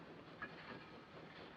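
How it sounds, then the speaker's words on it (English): A 1940s passenger train moves steadily on its rails with a faint, distant, continuous rumble and a soft hiss. "The train is leaving."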